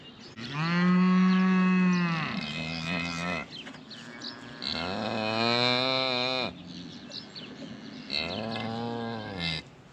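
A cow that has just calved gives three long, loud, drawn-out moos close by, each lasting a couple of seconds with short pauses between.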